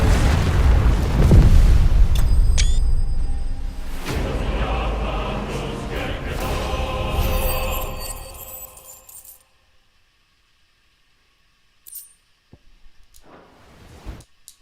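A Spirit Bomb attack detonating in a video game, a huge booming explosion that rumbles loudly and slowly fades over several seconds into silence, followed by a few sparse clicks and blips.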